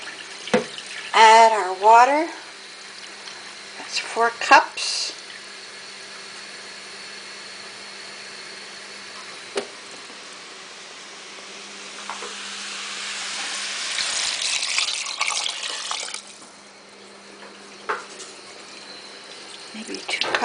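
Tap water runs into a soup pot of bacon and green split pea soup in a kitchen, a hissing pour that swells in the middle and then cuts off, with someone talking in short bursts around it.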